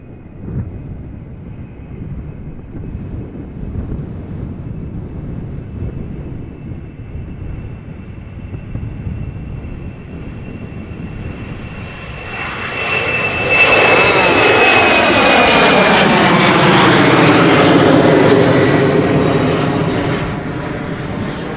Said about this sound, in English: Boeing 737-800 from Corendon, flight 993